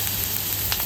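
Chopped green chillies frying in hot ghee in a kadhai give a steady, close sizzle with no talking. The hiss is broad and even and lasts under a second.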